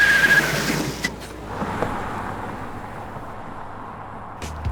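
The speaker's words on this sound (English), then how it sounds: "He's building up good speed even over this rough terrain" A Mitsubishi Triton Athlete pickup driven fast over rough, potholed terrain, loud engine and tire rush fading from a strong start to a steady rumble, with thuds from bumps.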